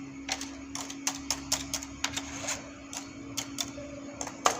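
Knitting machine carriage pushed back and forth across the needle bed to knit rows, producing a steady run of sharp rhythmic clacks and ticks over a low constant hum.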